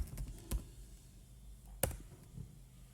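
Faint, sparse taps on a computer keyboard as a web address is typed into a browser, a few isolated clicks in a quiet room with no talk.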